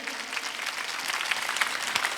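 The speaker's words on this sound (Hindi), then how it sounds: "खुद के लिए ही तालियां बजा" An audience at a Hindi spiritual talk during a Rajyoga stress-relief celebration claps for themselves, a steady, dense wash of applause heard from within the room, with no talk over it.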